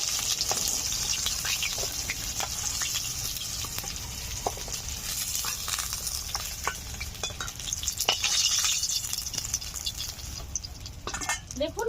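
Rohu fish pieces sizzle in hot oil in a pan, a steady frying hiss with scattered clinks and scrapes of a spatula against metal as the fish is lifted out, close and continuous throughout.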